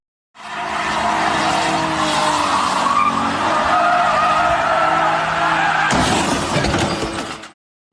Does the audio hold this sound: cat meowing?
no